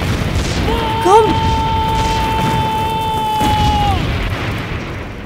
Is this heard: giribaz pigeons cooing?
no